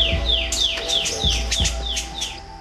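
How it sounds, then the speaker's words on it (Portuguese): Birds singing in Paraná's Atlantic Forest, with repeated clear descending whistled phrases in a regular rhythm over a steady low background hum, close and prominent. "hoje os pássaros cantaram lindamente"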